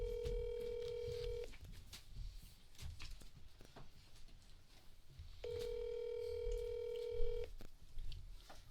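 A phone call is being placed and a telephone tone rings out twice, each a steady electronic tone lasting about a second and a half, separated by a pause. The tones are faint over low background noise.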